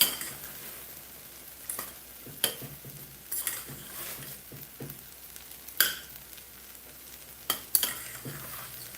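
Eggplant cooking in oil in a frying pan, a soft continuous sizzle broken by sharp utensil clacks and scrapes against the pan every second or two, close-up with no talking.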